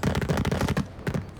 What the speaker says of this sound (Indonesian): Gue akan ancam dia dengan suara tembakan yang keras jika dia tidak menyerahkan.